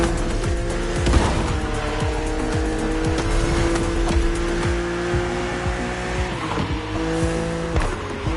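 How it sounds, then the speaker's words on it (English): BMW Z two-seater roadster racing an opponent in The Crew Motorfest, its engine droning steadily with rising and falling harmonic tones, occasional tire squeal and faint skid bursts throughout, close and continuous with no talking. "BMW Z models are what we call roadsters."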